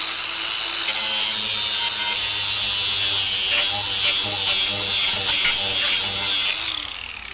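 A cutoff wheel grinding epoxy on a panga boat build gives a loud, continuous high-pitched whine and hiss that holds steady throughout.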